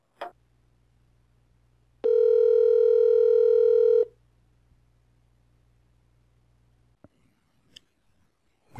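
A steady dial tone sounds for about two seconds from the speakerphone of a Grandstream GXP2170 desk phone over a low background hum, then a few short clicks follow.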